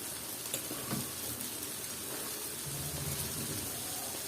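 Steady, hissing sizzle of vegetables frying in a hot pan with spiced masala for a bottle gourd peel, potato and bean bhaji, continuous and close with a few small pops and clatters.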